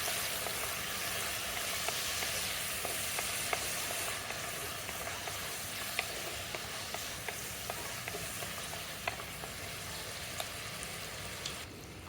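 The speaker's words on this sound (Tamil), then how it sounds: "இந்த வெங்காயம், தக்காளி எல்லாமே நல்லா வதங்கணும்." Onions and tomatoes sizzle and sauté in a pan with a steady, close frying hiss, dotted with small crackles and occasional stirring clicks throughout, and no talking.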